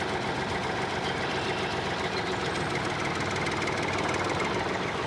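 A tractor engine runs steadily with a low, knocking idle rumble, continuous and moderately close, with no voices.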